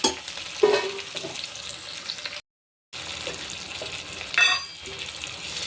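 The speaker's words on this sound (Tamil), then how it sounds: "இது இது எல்லாமே நல்லா வதங்கி வந்துக்கிட்டு இருக்கு" Dried mango pieces and spices sauté in a pan, a gentle sizzle with occasional stirring scrapes, briefly cut to silence midway, then resuming with a sharper clatter.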